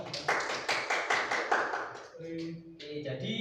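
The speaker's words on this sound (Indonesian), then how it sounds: "Beri tepuk tangan." Brief burst of classroom applause, a couple of seconds of quick rhythmic clapping from students, fading out as a teacher's voice takes over.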